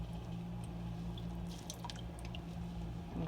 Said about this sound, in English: Give it a little squeeze to get some of the water out.